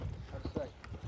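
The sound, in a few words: horse hooves loping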